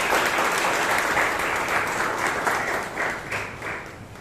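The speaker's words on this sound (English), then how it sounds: "And a round of applause for our general evaluator once again," A Toastmasters meeting audience applauds the general evaluator, a dense, sustained wash of many hands clapping at once that tapers slightly toward the end.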